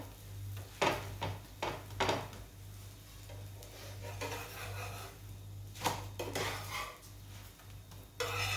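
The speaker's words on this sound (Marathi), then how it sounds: "पराठ्याला मस्त असं भाजून घ्यायचं, आणखीन टेस्टी लागतो।" Aloo paratha, a potato-stuffed flatbread, roasting on a pan in a home kitchen, heard as scraping and tapping of a spatula against the pan with scattered clinks over a low steady hum.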